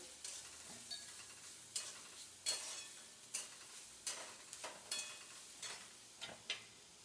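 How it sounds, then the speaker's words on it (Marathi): Vegetables including cabbage sauté in oil for momo filling, a quiet, even sizzle broken by regular sharp spatula scrapes and stirring strokes about every second, no voices. "तेलामध्ये चांगलं परतून घेते याला."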